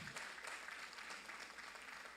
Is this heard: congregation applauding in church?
yes